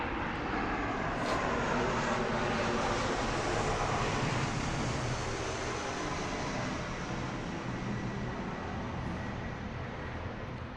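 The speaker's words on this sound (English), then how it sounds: "gonna let this airplane pass real quick." An airplane passes overhead outdoors, a steady broad roar with wind-like rush that holds throughout, fairly loud and continuous with no talking.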